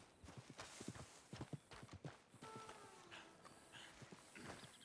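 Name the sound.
horse walking, hooves clip-clopping, in Red Dead Redemption II video game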